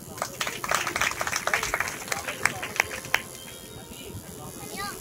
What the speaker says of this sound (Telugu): దానికి మీరు చప్పట్లు కొట్టాలి